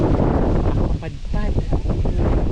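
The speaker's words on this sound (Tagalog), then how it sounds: "Sobrang lakas ng hangin." Strong wind buffets the microphone at a scenic overlook, a loud rumbling roar that swells and dips, while a person briefly speaks over it.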